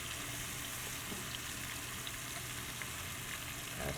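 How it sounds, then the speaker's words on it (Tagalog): Apples going into melted butter in a pan produce a quiet, even sizzling hiss throughout, low in level with only slight texture changes. "let's just melt our butter. And then I'm gonna start adding in my apples."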